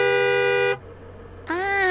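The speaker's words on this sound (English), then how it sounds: "Yeah, hey, honk the horn." Car horn honks in a Family Guy cartoon, two loud sustained blasts from a taxi separated by a short pause, the second bending slightly in pitch.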